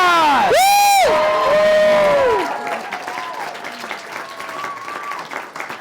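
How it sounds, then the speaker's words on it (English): Loud whoops and high shouts from an audience burst out first, then settle into steady applause with cheering that continues at a lower level to the end. "Oh, come on, give her a big round of applause."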